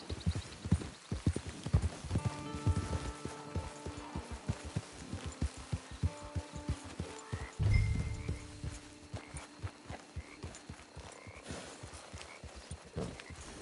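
Horse hooves clip-clopping in the western video game Red Dead Online, a rapid regular walking rhythm of hoof strikes, close and clear, with a short snort or whinny partway through and no talk.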